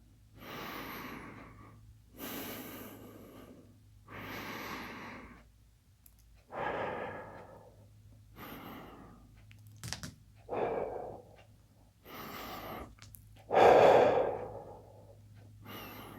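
Slow, deep breaths with audible sighing exhales during a beginner home fitness stretch, several long breath cycles spaced a few seconds apart, close and fairly soft, with one louder exhale near the end and no talk.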